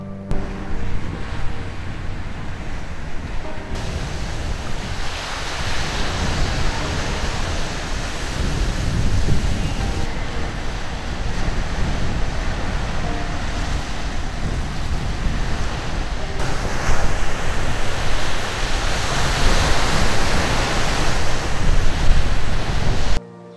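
Steady roar of ocean surf on the East Sea coast beside Deungmyeongnaggasa Temple in Gangneung, a continuous loud wash of breaking waves with wind rumble and swelling surges throughout, no voices.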